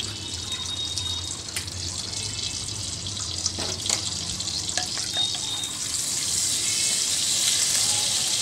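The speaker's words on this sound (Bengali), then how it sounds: "এর মধ্যে আমি এই সময় তেজপাতা, সাদা জিরে আর গোটা গরম মশলা যেটা নিয়েছিলাম সেটা ফোড়ন দিয়ে দিলাম।" Bay leaf, cumin and whole garam masala crackle as they hit hot oil and melted butter for an aloo soyabean curry, a steady close sizzle with small pops and a brightening hiss toward the end, no talking.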